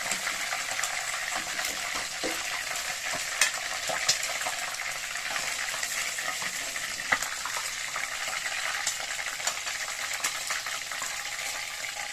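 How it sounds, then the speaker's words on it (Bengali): Oil sizzles and crackles steadily as bhola fish fry in a pan, a constant close hiss with occasional sharper pops. "বাকি মাছগুলো এবার তেলে আর দিয়ে দিলাম"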